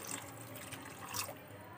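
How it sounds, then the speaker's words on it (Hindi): Water splashes and trickles briefly into a pan of spinach curry, poured onto fried masala to make gravy, a soft pouring sound with a slight surge near the end, close and fairly quiet. "इसमें हम पानी डाल देंगे ग्रेवी के लिए"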